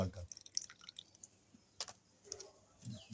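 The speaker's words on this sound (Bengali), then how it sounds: "এই জলটাকে সুন্দর করে কিন্তু ভালো করে ছেঁকে নেবেন জলটাকে" Water that has gone foul in a pot of soaked banana peels is strained into another container for orchid care, giving faint, close drips and small splashes with a few louder trickles.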